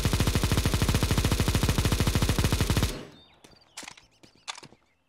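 Rapid sustained automatic gunfire from the comeback gun in CS:GO, a loud fast burst lasting about three seconds before cutting off, followed by a few scattered softer clicks and thuds.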